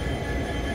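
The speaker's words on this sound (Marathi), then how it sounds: "आणि हीच ती ट्रेन आहे जी की अकोला ते पूर्णा जाणार आहे." Express train number 17683 bound from Akola Junction to Purna, at platform 4 of Akola Junction, gives a brief steady low mechanical rumble, close and continuous, with no speech.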